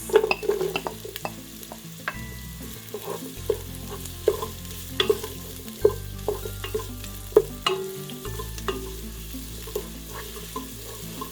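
Ginger and onions sizzle in a pan for vegan arroz caldo, a moderate crackle with repeated clacks and scrapes of a spoon stirring at an uneven rhythm.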